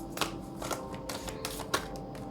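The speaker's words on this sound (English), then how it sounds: "It's very, very difficult for me to shuffle it." Large oracle cards being shuffled by hand, a few soft papery riffles and slaps spaced through a short stretch over a faint steady room hum.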